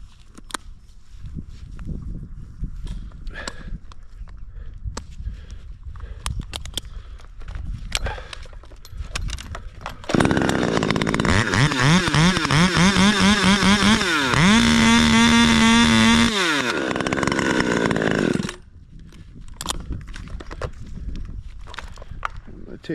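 During a tree removal in Lubec, Maine, a chainsaw revs up and makes a face cut for about eight seconds, loud and near, its pitch rising as it bites, with quieter outdoor sounds and footsteps before and after.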